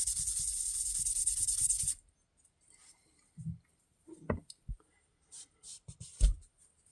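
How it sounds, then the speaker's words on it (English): Brushing rust off an old Barlow knife, a close, steady rough scrubbing for about two seconds, followed by a few faint scattered taps and light rubbing strokes. "there's a lot of rust around on it, so it's going to give it a general brush"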